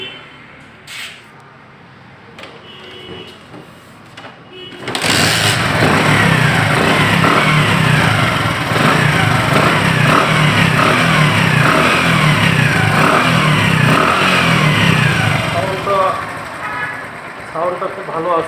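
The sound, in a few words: Bajaj Platina 100cc motorcycle engine revving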